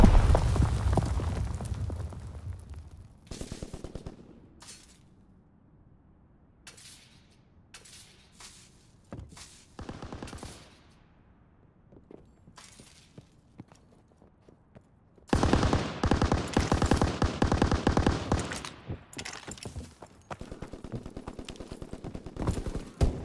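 Call of Duty WWII mortar barrage and gunfire: loud explosions open the scene, scattered sharp shots follow, then a dense, rapid burst of automatic fire and blasts takes over the second half.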